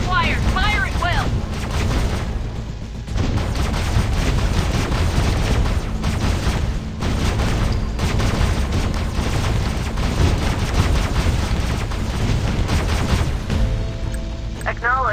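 Gunfire and booming explosions in the Last Z: Survival Shooter video game, a loud, continuous barrage of shots and blasts with brief lulls, while voiced game callouts play over it.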